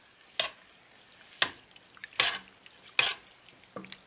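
Rice for Saudi chicken kabsa is stirred in a pot, five evenly spaced scraping strokes with a soft sizzle between them, close and moderately loud, no talking.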